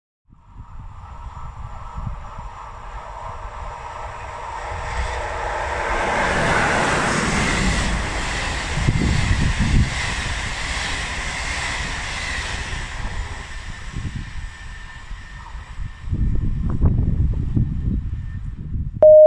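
A train runs through a station platform in Anzola Emilia, a broad rumbling roar that swells to a sustained loud wash with clattering wheel beats, then eases near the end while a platform tone sounds.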